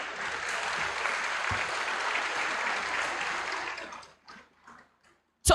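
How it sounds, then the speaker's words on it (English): Audience applause at a school graduation ceremony, a steady dense wash of clapping for about four seconds that then fades out, followed by a brief sharp knock at the end. "Give yourselves a round of applause."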